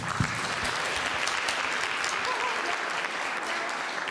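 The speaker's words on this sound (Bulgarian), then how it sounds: "Защо не ръкопляскате?" Sustained applause from an audience at an anniversary celebration, dense steady clapping filling the whole stretch without a break.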